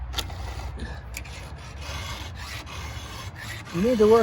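Filing a chainsaw chain by hand, soft rasping strokes repeating at an uneven pace, close up and moderate in level, with a brief squeaky metallic note near the end.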